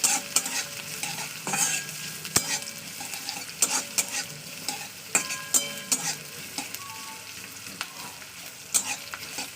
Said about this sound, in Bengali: পেঁয়াজগুলোকে একটু ভাজা করে নিতে হচ্ছে